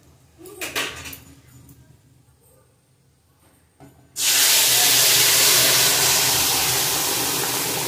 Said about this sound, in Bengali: ফোড়নটা ভাজা হয়ে গেছে, ডালটা ঢেলে দেবো